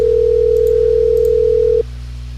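A steady telephone dial tone holds for nearly two seconds and then stops abruptly, leaving a low hum underneath, close and clear, with no talking.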